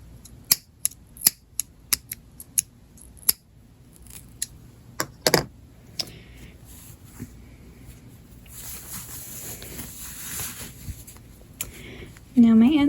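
Scissors snip the yarn end of a cuff-down knitted sock, a few crisp close cuts scattered among quiet handling noises, with a voice talking softly at times.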